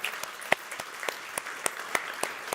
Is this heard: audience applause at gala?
yes